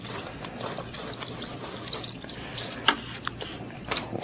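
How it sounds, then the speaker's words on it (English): A paintbrush is washed in water while painting a snowy mountain scene: soft splashing and dripping with small clicks and taps from the brush against a container, close and fairly quiet. "let me wash this brush"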